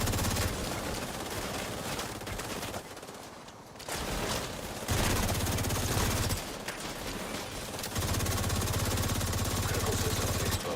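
Sustained automatic gunfire rattles in The Division 2, long loud bursts broken by a short lull in the middle, then resuming at full intensity until the end.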